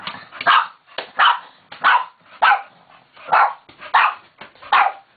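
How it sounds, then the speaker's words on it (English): A dog barks about seven times in a steady, even rhythm, loud and close, with short pauses between barks and no voices. "Zion, stop barking."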